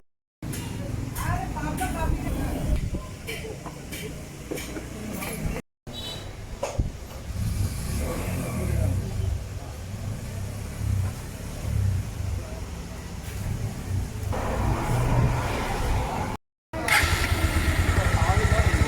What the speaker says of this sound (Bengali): তো আমরা বাইকটি স্টার্ট করেছি, এখন কিন্তু সাউন্ড একদম নিখুঁত।